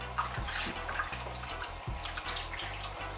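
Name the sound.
washing raw chicken under running water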